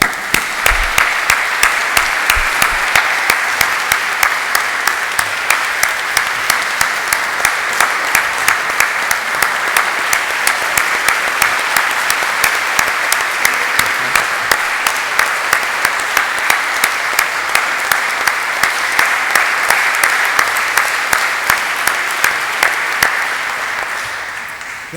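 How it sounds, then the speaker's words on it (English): A standing audience at the Olympia Awards for Health & Nutrition gives a sustained, loud round of applause, dense steady clapping that fills the room for the whole stretch and tapers slightly at the very end. "I'd like to ask that we all stand up and give them a round of applause"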